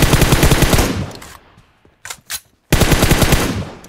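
Rapid automatic gunfire from a solo-versus-squad battle royale shooter game comes in loud, close bursts, with a dense volley at the start, a few sharp single shots in the middle and another heavy burst at the end.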